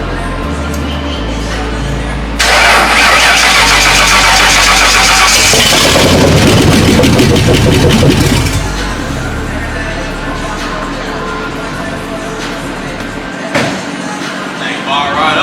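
A V8 truck engine fires for the first time after sitting with a dead battery, cranking briefly, then catching into a loud rough rumble that settles into idle, with people talking nearby.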